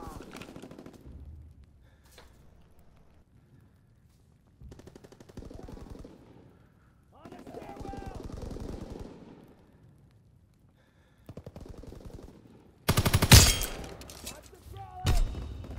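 Bursts of gunfire from Call of Duty: WWII, including the Volkssturmgewehr rifle, come in short clusters between stretches of near silence, ending in a loud, dense volley, with someone talking between shots.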